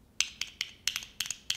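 Seimitsu arcade buttons tapped about eight times in uneven, quick succession, each a sharp, bright plastic click heard up close with nothing else around.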